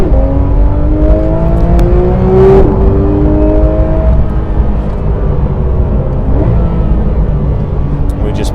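Porsche GT3 RS held in first gear while accelerating on a road, its engine note rising in pitch with a steady loud roar and whirring drivetrain throughout, close and continuous.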